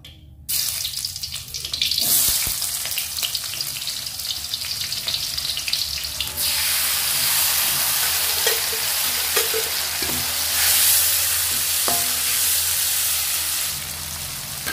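Sambal stir-fried with fried gapitan fish and bitter melon sizzles steadily in a hot pan, a loud continuous hiss with scattered stirring scrapes, and water runs from a tap near the start.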